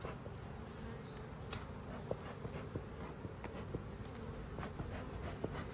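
Bees in an opened hive during an inspection, a steady, dense buzzing hum throughout, close by, with scattered small clicks and knocks.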